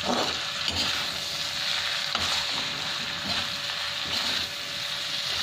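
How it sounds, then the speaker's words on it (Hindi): Potato sabzi with coriander fries over a raised flame, a dense, even sizzle close by with faint stirring scrapes and no speech. "फ्लेम थोड़ा सा तेज करके हल्का सा भून लें"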